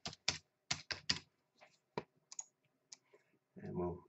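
Typing on a computer keyboard: a quick run of sharp, close key clicks, then scattered softer taps with gaps, ending in a brief duller rustle.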